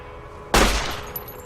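A single loud gunshot in the video game Fallout New Vegas, a sharp broadband blast with a booming low end that decays over about half a second before quiet background ambience returns.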